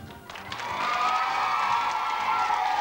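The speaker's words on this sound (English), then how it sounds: "Big a round of applause for us" A studio audience on a 1991 TAS-TV children's game show breaks into applause and cheering, a dense, steady crowd clatter that swells after a brief lead-in and holds loud throughout.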